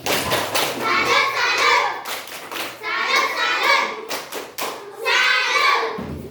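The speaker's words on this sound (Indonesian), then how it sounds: "kita kasih tepuk salut. Tepuk salut." A classroom group claps together in a rhythmic patterned 'tepuk salut' clap, several bursts of hand claps, with children's voices mixed in close by.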